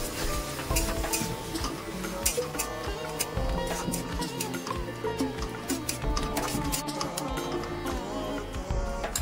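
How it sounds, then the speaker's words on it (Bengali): A spice mixture sizzles and scrapes as it is stirred into lightly fried onions in a pan for Bengali pabda fish curry, a dense, continuous crackle with clattering utensil sounds throughout. "পেঁয়াজগুলো হালকা ভাজা হয়ে গেলে তার মধ্যে ওই মশলার মিশ্রণটি ঢেলে দিলাম।"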